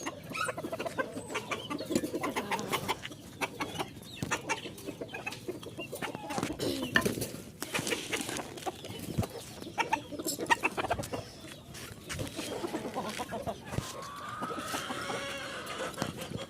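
Chickens cluck and squawk close by at feeding time, a busy overlapping stream of short calls with scratching and movement throughout, one sharper squawk rising near the end.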